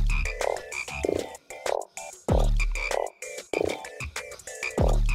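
Frog croaking in the video game INDIKA: loud, dense, repeated croaks in quick irregular rhythm, close and continuous over layered background tones, with no talk.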